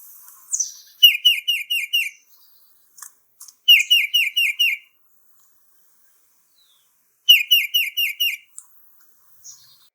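A songbird calls in three bouts of four or five quick, bright, two-part whistled notes, a repeated "Peter, Peter" phrase, clear and close with silent gaps between bouts.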